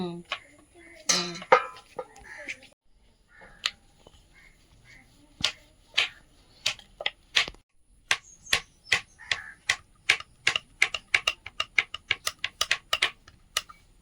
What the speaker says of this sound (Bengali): ভালো করে ফুটো ফুটো করে দাও জোরে জোরে চাপো